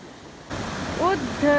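Water rushes and splashes as gravel is rinsed clean beside a village watermill, a steady close wash of flowing water with a voice speaking over it.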